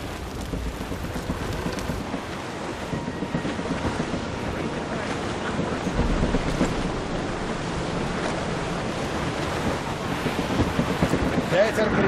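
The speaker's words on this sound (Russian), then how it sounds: "Ветер крепнет, Шень." Strong wind at sea in the video game Assassin's Creed Rogue, heard as a steady, dense rush of gusting air and churning water from aboard a ship that swells slightly midway, with no speech over it.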